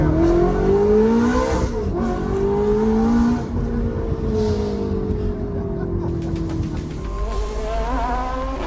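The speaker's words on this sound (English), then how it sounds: "this thing sounds absolutely insane. Just listen to the car" A 2006 Ferrari F430 with its V8 engine revs hard, loud and close, with sweeping rising and falling pitch as the throttle is blipped, the engine note alone without any voices.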